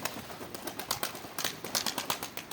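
Pigeons coo softly nearby, with quick rustling and fluttering bursts that repeat in an uneven rhythm.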